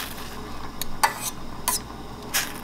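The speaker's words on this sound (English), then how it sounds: "So just gonna mix them a little bit." Thai glass noodles cooking in a pot are stirred with a utensil, giving a few distinct scraping swishes over a low background bubble, close and moderately loud.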